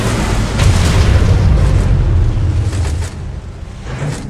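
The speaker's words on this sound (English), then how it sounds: "Nuclear missile launched." A nuclear missile detonates in the mobile strategy game Command & Conquer: Rivals, giving a loud, deep rumbling boom that rolls on for several seconds before fading.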